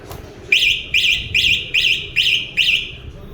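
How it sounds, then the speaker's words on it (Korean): A Yamaha T-Max motorcycle anti-theft alarm siren, set off by a shock to the bike, chirps in six evenly spaced, warbling bursts, loud and close, with no talking. "바이크 엔진 충격이 가거나 하면은 사이렌을 내게 됩니다"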